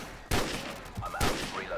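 Gunfire in the video game Modern Warfare: two sharp, loud bursts of shots about a second apart, each followed by rumbling echo and shrill whistling effects, with a voice faintly under the action.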